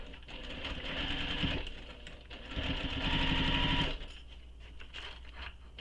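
A sewing machine stitching a bag runs in two loud, close bursts of rapid, even needle rattling, separated by a short pause and ending with lighter clicks.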